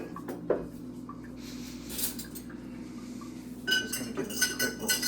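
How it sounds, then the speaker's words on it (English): A spoon stirs milk in a pot, making quiet clinks and scrapes against the metal in short bursts, with louder rattling near the end. "Just going to give this a quick little stir here."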